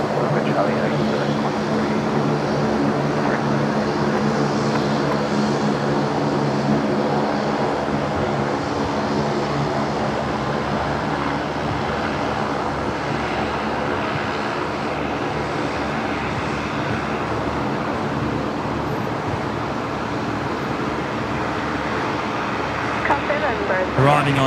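Rex Saab turboprop taxiing at Brisbane Airport, a steady, loud propeller drone with a sustained engine hum that carries on throughout, heard under radio chatter and occasional talk.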